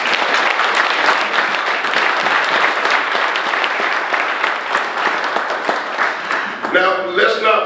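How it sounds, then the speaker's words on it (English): Sustained audience applause fills a State of the County address, loud and continuous from many hands, then tapering as a voice begins speaking near the end. "Let's give them a round of applause."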